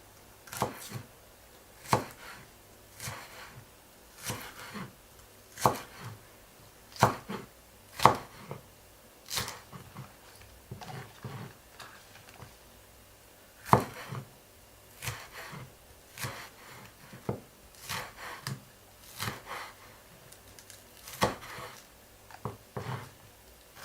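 Spring onion being chopped with a knife on a board for homemade beef bulgogi, a steady run of sharp, close knife taps with short pauses between bursts.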